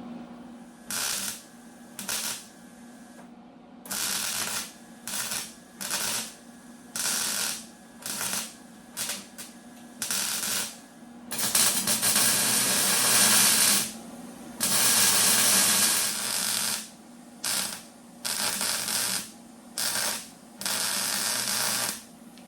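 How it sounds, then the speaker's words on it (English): Brass is being brazed onto the B pillar of a 1972 VW Super Beetle with a torch, producing repeated bursts of loud, close hissing and crackling that start and stop, with one long sustained stretch, and no talking. "When you're hitting that brass, it's like a sparkler going off."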